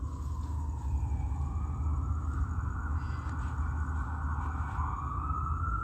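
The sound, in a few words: ambulance siren, American Medical Response emergency vehicle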